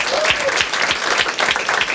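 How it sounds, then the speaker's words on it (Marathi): An audience at a Marathi stand-up comedy show breaks into loud, dense clapping that stays steady and close throughout. "ठीक आहे छान एकदा टाळ्या वाजवायच्यासाठी."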